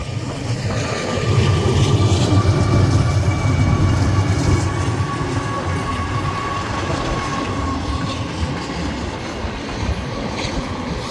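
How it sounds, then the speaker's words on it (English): A train passes through suburban Indiana, with a continuous loud rumble and rolling clatter of wheels on rails, swelling early and then holding steady throughout, with no talking. "it wouldn't be suburban Indiana if it didn't have trains all over the place"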